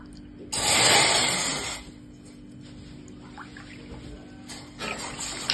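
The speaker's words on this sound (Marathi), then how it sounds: "चहासाठी मी आता इथे 2 कप पाणी टाकते." Water poured into a pot for masala tea, a steady splashing rush that lasts about a second, then a quieter trickle and a brief second splash over a faint background hum.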